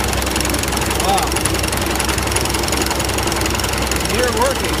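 An old farm engine runs steadily at a farm show, a continuous low rumble with a knocking texture at constant level throughout, while people talk nearby over it.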